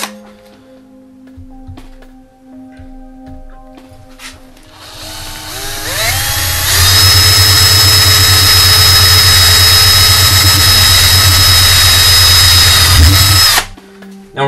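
A power drill bores through a plate clamped in place for a 37-inch swept FPV foam wing, spinning up after light handling noises and running loud and steady for about seven seconds before stopping abruptly.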